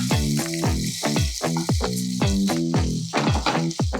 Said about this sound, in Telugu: మీల్ మేకర్స్ ని ఆయిల్ తో రోస్ట్ చేసుకోవాలి.